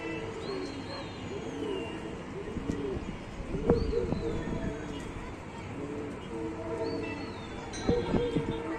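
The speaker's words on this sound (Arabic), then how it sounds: "فرد حمام لسه طاير، عايز يجي يحط على الغايه تاني" Soft, repeated pigeon coos in a steady rhythm at a rooftop pigeon loft in Tanta, Egypt, with occasional wing flaps and faint chirps from other birds in an open outdoor setting.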